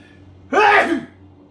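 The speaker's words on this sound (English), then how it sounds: "I'm going to sneeze. Hang on." A single loud sneeze bursts out close by, brief and sharp, after a moment of quiet room hum.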